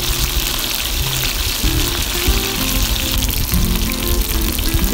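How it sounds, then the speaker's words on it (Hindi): Chicken pieces frying in oil in a pan, a loud, steady, close sizzle with bubbling crackle throughout and no talking. "और चिकन को इसमें फ्राई कर लेते हैं।"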